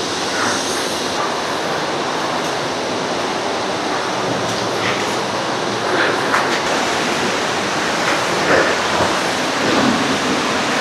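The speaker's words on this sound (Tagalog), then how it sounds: "naririnig ko na yung yung lagaslas. So, papalapit na tayo sa falls." A loud, steady rush of falling water from the 285-foot Hulugan Falls in Laguna, Philippines fills the scene, a constant broadband roar with slight surges toward the end and no voices.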